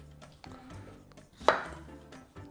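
A knife cuts the ends off a ripe, nearly black plantain on a board, giving one crisp chop that stands out against a few fainter taps in a quiet kitchen.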